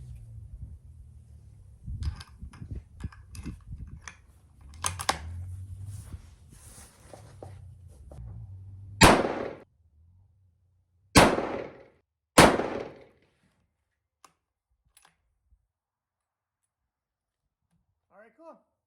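Three loud rifle shots fired at a target as a second group, sharp and close, spaced a second or two apart after a stretch of talking; a faint metallic clink follows near the end.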